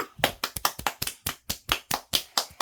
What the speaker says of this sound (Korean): 자 한번 박수 줍시다